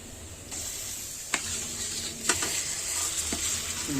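Mashed pav bhaji vegetables of capsicum, potato and peas with spices being stirred into a hot pan, a soft continuous sizzle broken by a few sharp scraping strokes of the spoon.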